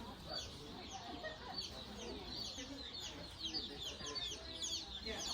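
Many small female chicks at a feed store peep constantly, a dense chorus of high, overlapping chirps, soft and steady with no pauses.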